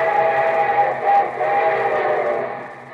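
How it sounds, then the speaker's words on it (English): A train whistle sound effect from an old radio broadcast sounds in several sustained tonal blasts over rumbling train noise, loud and close, with a slight fade toward the end. "here comes our summer show train"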